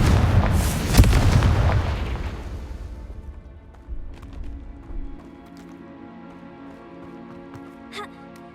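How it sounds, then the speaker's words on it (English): A Confringo fire spell explosion in Hogwarts Legacy bursts loudly at the start, then a rumbling tail decays over several seconds with faint game sounds and small impacts after it. "Could the Phoenix be in there? Confringo!"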